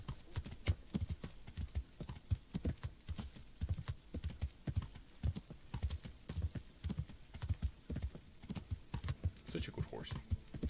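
Horse hooves clip-clop steadily in a rhythmic gait in Kingdom Come: Deliverance as the horse travels near Newhof, with a few quiet voice sounds over the repeating footfalls.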